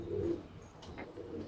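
Rangeen Sherazi breeding-pair pigeons give a soft, brief coo, fairly faint against a low background murmur.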